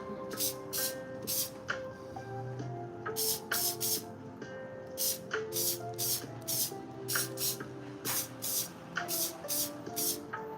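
Repeated short bursts from a spray bottle misting a tree on a model forest terrain, coming in quick clusters of two or three puffs, close and fairly loud over a faint background hum.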